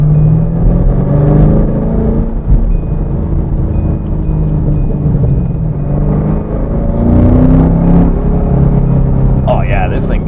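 A 2015-era American V8 muscle car set to competition mode, accelerating hard with a steady low rumble and rising engine harmonics throughout, close and loud.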